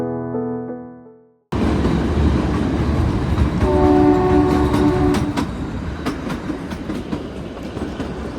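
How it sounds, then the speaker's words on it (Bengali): The Kalka–Shimla toy train sounds its horn, then pulls away and settles into a steady rumble with clickety-clack from the wheels, heard close from on board. "চায়ের কাপে চুমুক দিতে দিতেই আমাদের ট্রেন ছেড়ে দিল তার গন্তব্য কালকা থেকে শৈলশহর সিমলার উদ্দেশ্যে"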